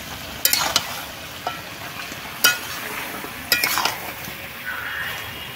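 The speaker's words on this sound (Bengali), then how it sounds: "শুধুমাত্র তেল, পেঁয়াজ আর লবণ দিয়েই মাংসটাকে কষানো হচ্ছে" Chicken pieces frying in oil with onion and salt, stirred in a pan: a steady low sizzle with several sharp scraping clinks of a utensil against the pot, fairly close, no voices.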